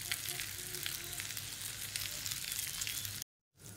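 A jowar (sorghum) snack is sautéed in a pan over a gas flame, making a dense, steady sizzle with small crackles throughout. It cuts to brief silence and then returns softly, with no voices.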